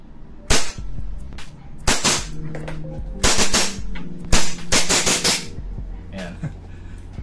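WE T-Rex Hicapa airsoft pistol firing in a blowback test: sharp cracking shots in small clusters with mechanical clacks, close and loud.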